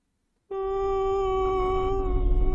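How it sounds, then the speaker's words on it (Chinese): A female ghost wails in the horror video game Tsugunohi, a sustained, tonal, mournful cry that starts suddenly after a moment of silence and holds steady and loud to the end. "这女鬼的声音很北凄。"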